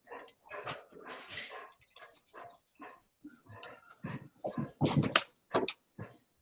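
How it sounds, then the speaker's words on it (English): A dog in a house whimpers and barks, with high whines and sharp yips that come in uneven bursts, growing louder and more insistent toward the end, heard close and without speech. "somebody's got a dog in the house."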